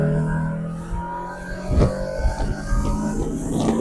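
A car engine accelerating in second gear, its revs climbing in a steady, fairly loud drone close by, with a brief rougher burst partway through and no talking.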